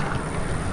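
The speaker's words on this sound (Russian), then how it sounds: "Ветрено." Strong wind buffets the microphone while riding a bicycle downhill on a road near Menzelinsk, a steady, loud rumbling roar throughout the short moment with no voices.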